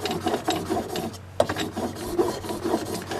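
A tool blade is sharpened on a flat stone in a roller guide, giving a steady rasping, rubbing stroke repeated back and forth with a sharper scrape partway through, close up with no voices.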